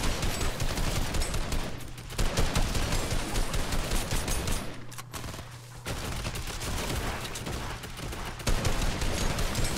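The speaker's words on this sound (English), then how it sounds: "Oh my god, suppressed SMG." Suppressed SMG fire in a zombie horde-mode video game, rapid muffled bursts repeating in several stretches with brief pauses between, fairly quiet in the mix.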